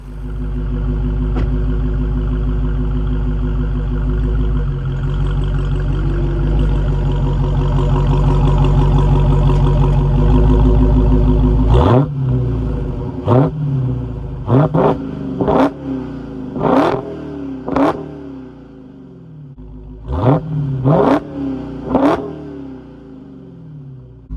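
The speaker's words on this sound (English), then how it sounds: "Let's go ahead and hear an exhaust clip before we get this thing on the road." A Dodge Charger Hellcat Widebody Jailbreak's V8 idles with a deep, steady rumble from the exhaust, then revs sharply again and again, each loud blip rising and falling back, close by.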